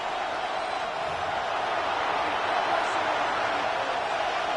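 In a football video game, a stadium crowd roars before a 3rd-and-goal play, a dense, steady wash of noise that holds at an even level throughout.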